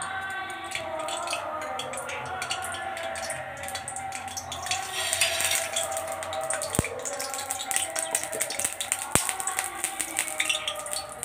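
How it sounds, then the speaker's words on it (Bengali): Pointed gourd sizzles in mustard oil in a wok. The frying makes a soft, continuous crackle and hiss, with a few sharp clicks and pops near the end. "প্রথমে আমি কড়াইয়ে সর্ষের তেল দিয়ে দেবো পটলটা ভাজার জন্য"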